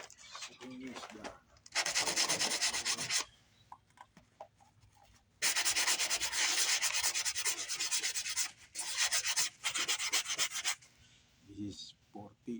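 Coarse 40 or 30 grit sandpaper rubbed over a car bumper, close and loud, in several long scraping bursts with short quiet gaps between them.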